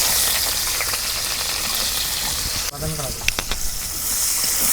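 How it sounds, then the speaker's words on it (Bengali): Chopped onions dropped into hot mustard oil in a wok, giving a steady loud sizzle and hiss with a brief crackle as they hit the oil. "তেল গরম হচ্ছে এখন আমি দিয়ে দেবো পেঁয়াজ কুচি"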